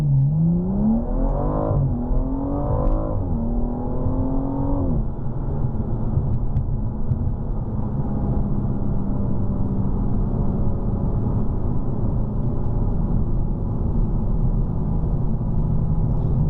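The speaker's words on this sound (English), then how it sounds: "we're going to try a launch control here" A BMW M235i doing a launch-control start, its engine climbing hard through the gears with the revs rising and dropping at each shift, then settling into a steady loud cruising drone heard from inside the cabin.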